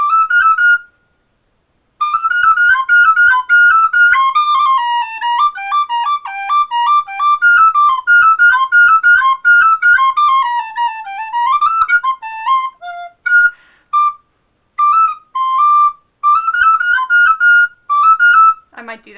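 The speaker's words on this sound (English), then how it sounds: "let's see if this sounds better on a higher whistle" A higher-pitched tin whistle plays a lively banjo tune, Blackberry Blossom, in quick, bright runs of notes, loud and close, with a brief pause near the start and choppier phrases toward the end.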